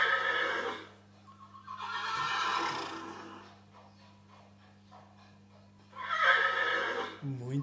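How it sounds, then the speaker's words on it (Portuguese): A horse whinnies in two loud, shrill, quavering bursts separated by a few seconds of quieter breathy sound, with no talking. "É o cavalo."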